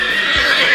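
A horse neighs in one bright, high whinny that holds steady and loud for under a second, close and alone, with no talk over it.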